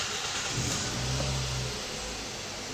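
A 2005 Toyota Corolla engine cranks and catches after a starter motor brush replacement, then settles into a steady close idle with a broad engine rumble and no talk.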